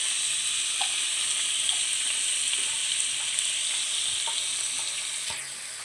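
Ground spice paste with turmeric and salt sautés in a pan while cooking a bottle gourd and prawn curry, giving a loud, close, steady sizzle and hiss with faint occasional stirring ticks, and no talking.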